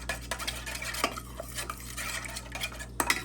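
Cake batter of egg and oil being mixed in a bowl: steady soft scraping and clicking of a utensil against the bowl, close and fairly quiet, with a few sharper taps and no speech.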